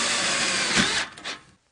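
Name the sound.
power drill driving screws into VersaTube steel frame joints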